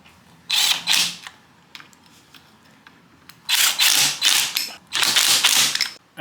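A ratchet or torque wrench working on a KLX 140 motorcycle, giving close, loud bursts of rapid mechanical clicking separated by brief quiet gaps with small taps.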